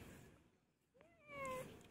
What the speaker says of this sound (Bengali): চিংড়ি, হ্যাঁ ম্যাও কইছে?